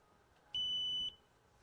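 A Kovix KTR-18 alarmed trailer lock gives one sharp, high electronic beep about half a second long as it arms, close and clear over quiet surroundings.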